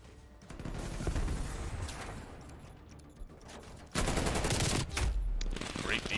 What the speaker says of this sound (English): The artillery strike does come in.